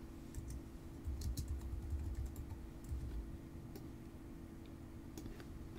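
Quiet tapping on a computer keyboard while text is entered in layout software, a steady run of soft close clicks over a low constant hum, with no talking.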